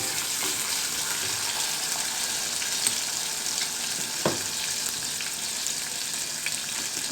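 Onion sizzles steadily in a hot pan with cumin and mustard seeds, a constant close frying hiss with a faint clink partway through.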